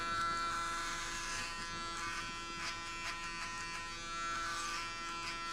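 Electric hair clippers buzz steadily during a buzzcut, a close, constant mechanical hum that rises and dips slightly as the blades move across the head, with no talking.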